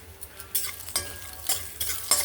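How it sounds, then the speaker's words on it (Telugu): Mustard seeds, cumin, dried and green chillies, and garlic fry in hot oil in a pan, giving a close, steady sizzle with a few louder bursts of stirring scrapes and crackle. "ఇది ఆవాలు, జీలకర్ర, ఎండుమిరపకాయలు, పచ్చిమిరపకాయలు, వెల్లుల్లి మంచి కలర్ వచ్చిన వరకు వేయించాను."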